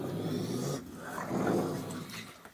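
Wild raccoon growling close by, a low, rough, continuous rumble that swells and fades over a couple of seconds with no talk over it.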